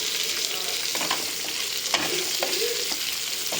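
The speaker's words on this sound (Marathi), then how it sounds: "मस्त कांदा पण परतून घ्यायचा" Chopped onion with cumin sautéing in a pan for an egg masala, a soft continuous sizzle with occasional scrapes and clinks of a spoon stirring, close and fairly quiet.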